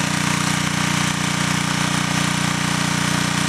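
An engine holds a steady, loud, rapid throbbing drone during an automated test run, the even pulse staying constant and close throughout with no voices.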